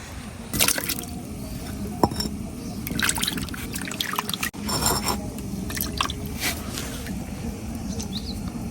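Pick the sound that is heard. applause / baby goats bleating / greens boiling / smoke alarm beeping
greens boiling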